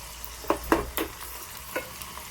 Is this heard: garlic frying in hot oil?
yes